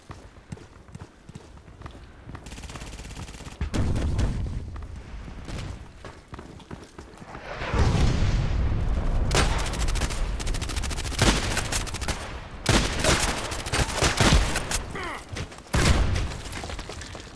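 Automatic bursts from an RPKT machine gun in the shooter Contract Wars, rapid clustered rounds repeating in loud volleys over about seventeen seconds, with quieter gaps between the strings of fire.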